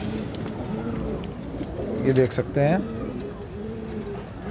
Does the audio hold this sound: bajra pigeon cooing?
yes